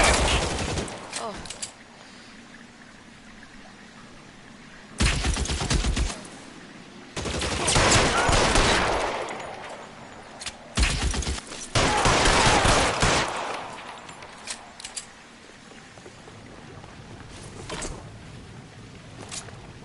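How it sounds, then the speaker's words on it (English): Heavy shotgun blasts in L.A. Noire come in several loud bursts separated by quieter gaps, with someone talking between and over the shots. "Oh, it's a shotgun."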